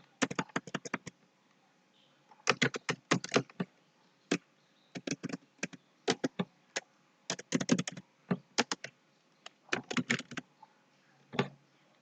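Bursts of fast key clicks on a computer keyboard, with short pauses between runs of typing, are close and crisp against a quiet room.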